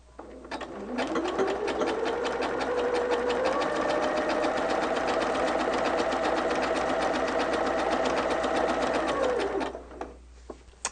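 A sewing machine runs a long test stitch at wide stitch width and long stitch length, a steady, fast mechanical chatter lasting several seconds before stopping, close and clear.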